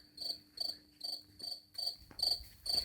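A grasshopper in a garden at night chirps in a steady, evenly spaced series of about eight short shrill pulses, close and clear against a quiet background.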